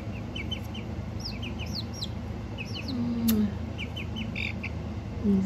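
Backyard roosters and a hen clucking and squawking nearby, with repeated short high calls and occasional drawn-out lower squawks over a steady background hum, no talk.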